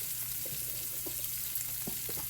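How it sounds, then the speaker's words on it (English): Carrots sautéing in a pan for a family Sunday dinner give a steady, close frying hiss with a few soft stirring knocks and a low hum beneath. "so what I'm doing first though is to get my carrots going"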